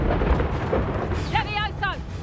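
Incendio fire spell cast in the game Hogwarts Legacy, a dense roaring burst of flame under a steady rumble, with short whooshing magical flares near the end.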